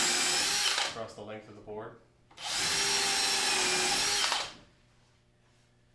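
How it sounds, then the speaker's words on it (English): A power drill drives screws into 3/4 inch wood for a circular saw jig, with two long, loud bursts of whirring, the first ending in brief stuttering pulses, and a voice speaking between them. "Just putting some screws in randomly"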